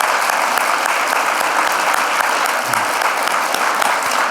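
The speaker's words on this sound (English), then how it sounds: "Let's give a big round of applause for Congressman Earl Blumenauer." Steady, dense audience applause at a city state-of-the-address event honoring a congressman, loud and continuous throughout without any talking.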